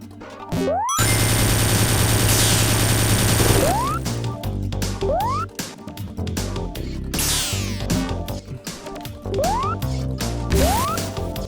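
Destroying UFOs in Sonic Origins Plus: a busy cascade of bright game effects, with rising zips, chimes and a sustained buzzing stretch early on, followed by repeated sharp hits and sweeps.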